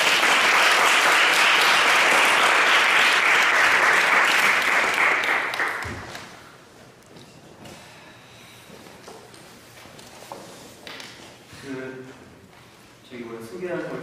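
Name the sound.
applause welcoming the speaker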